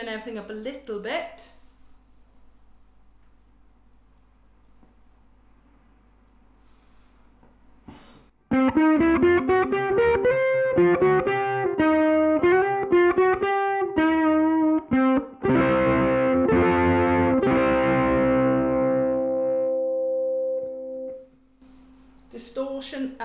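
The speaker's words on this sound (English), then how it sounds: "we're going to start with the Kmise US Dream, sort of distortion overdrive pedal" A ukulele strummed through a Kmise US Dream distortion overdrive pedal gives a loud, buzzing, sustained run of chords and notes, set between brief stretches of someone talking.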